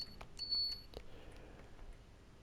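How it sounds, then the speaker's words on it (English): The guard buzzer in the cab of a Train Sim World 5 train on the London Euston to Glasgow Central route gives a short, faint electronic tone, followed by soft clicks over a low, constant cab rumble. "Let's respond to the guard buzzer."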